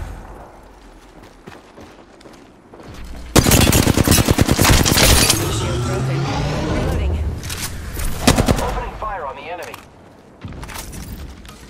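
Gunfire in a video game: a dense, loud stretch of rapid automatic shots lasting about five seconds, then trailing off into quieter game sounds, with voices present in the mix.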